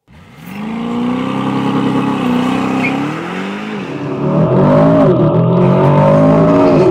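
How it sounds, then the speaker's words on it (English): An Aston Martin pulls away under launch control in Sports Plus mode, the engine roaring loud and close, pitch climbing steadily, dipping at a gear change, then surging again through the next gear. "And now for the launch control, press on the brake, switch to Sports Plus, and hit the D drive"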